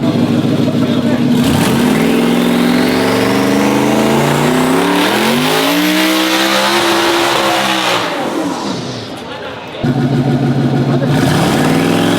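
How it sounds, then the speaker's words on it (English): A Chevrolet Colorado pickup truck engine revs hard and accelerates through several gear shifts while racing a Mustang, pitch climbing and dropping, with the second vehicle roaring close by. "Let's see what this truck does against a Mustang."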